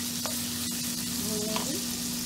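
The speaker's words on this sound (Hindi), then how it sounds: "इसे अच्छे से इसमें भूनेंगे" Split green chillies frying in a pan, a dense steady sizzle with a low hum running underneath and brief stirring scrapes; nobody speaks.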